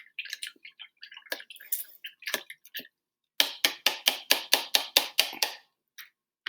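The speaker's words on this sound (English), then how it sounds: "That bucket of water, I'm swirling it around." Water swirled around in a bucket to rinse a paintbrush, irregular wet splashes and drips at first, then a run of about eight rhythmic sloshing pulses, close and clear with no talk.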